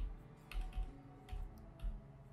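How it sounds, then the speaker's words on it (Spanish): Computer keyboard arrow keys pressed in a quiet room, a few soft, separate clicks spaced irregularly, close and faint. "Pues nos movemos con la flecha del teclado."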